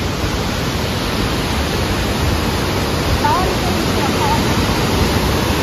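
A loud, constant roar of a waterfall, broadband rushing water filling the whole clip with no pauses.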